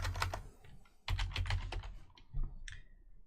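Typing on a computer keyboard to enter a search query in a news app, heard as close, irregular bursts of clicky keystrokes with short pauses between them and no talking.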